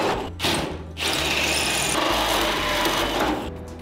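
A Diablo saw blade cuts through metal tubing for a rat rod wrecker's roll cage, giving a steady close grinding whine that runs for a few seconds with a brief break near the start.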